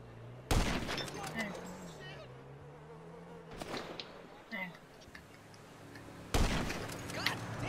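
Musket shots in a muzzle-loader battle video game, three sharp loud cracks spaced a few seconds apart, heard under talking voices and faint background game noise.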